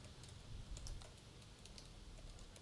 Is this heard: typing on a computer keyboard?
yes